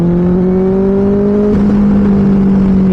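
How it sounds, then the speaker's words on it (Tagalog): A motorcycle engine hums loud and steady, its tone rising slightly as it revs, heard from the rider's position with wind noise and no talk. "Actually, naririnig ko yung motor ko eh."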